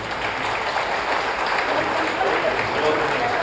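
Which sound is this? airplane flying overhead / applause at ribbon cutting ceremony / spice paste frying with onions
applause at ribbon cutting ceremony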